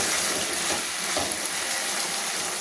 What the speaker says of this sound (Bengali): এবারে আমি প্রয়োজন মতো জলটা অ্যাড করে দেব।